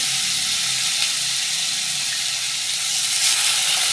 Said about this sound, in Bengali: ফোড়নটা ভালো করে হয়ে গেছে, এবার আমি পেঁয়াজ দিয়ে দেবো।